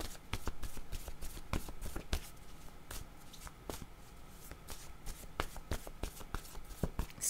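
Tarot cards are shuffled by hand in repeated riffles and sharp slaps, close-up and fairly quiet, with brief rustles between the strokes and no talk.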